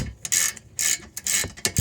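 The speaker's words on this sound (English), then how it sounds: "these long reach ratchet wrenches are pretty sweet" A long-reach ratchet wrench clicks in several quick bursts separated by short pauses while rear disc brake pads are replaced on a 1990–1997 Honda Accord. The ratcheting is close and crisp, with no talking.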